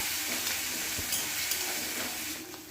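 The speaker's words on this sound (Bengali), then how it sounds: "আরও কিছুটা সর্ষের তেল আর এই সর্ষের তেলের মধ্যে একটি বেশ বড় সাইজের পেঁয়াজ বাটা দিয়ে কিছুক্ষণ ধরে পেঁয়াজ বাটাটা কষিয়ে নিচ্ছি" Onion paste fries in mustard oil over a low to medium flame, giving a dense, even sizzle close up with faint stirring scrapes and no voices.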